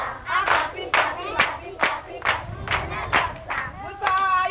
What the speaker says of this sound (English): I'm clapping on the left side.